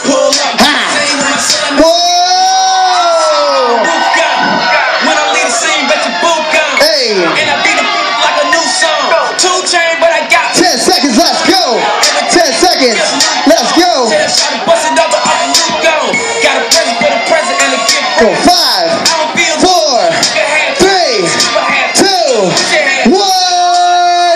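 A Las Vegas audience cheers and whoops for dancers, a loud, sustained roar of shouts and yells, with amplified talk from a host layered over the crowd throughout.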